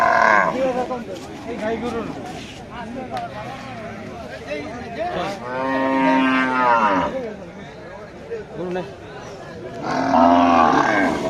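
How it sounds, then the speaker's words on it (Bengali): Cows mooing at a rural village cattle market for Eid sacrifice animals in Sreepur, Gazipur, with loud nearby drawn-out moos over a steady hubbub of people talking. "আমরা গরু বাজারে গরু দেখি গরু কম"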